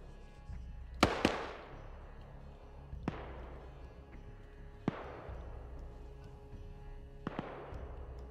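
Scripted tracer gunfire in a combat video game: sharp, distant cracks with long echoing tails, arriving irregularly, some in quick pairs, over a low, quiet background with no talk.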